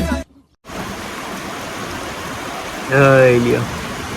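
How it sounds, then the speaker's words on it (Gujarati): Heavy rain falls in a dense, continuous roar, briefly cut off near the start, with a voice speaking over it toward the end. "હજી વરસાદ બંધ નથી વરસાદ ચાલુ"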